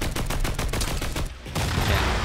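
Rapid gunshots from the video game Fortnite crackle in a dense, steady stream of bursts, briefly dropping out before the firing resumes loud and close.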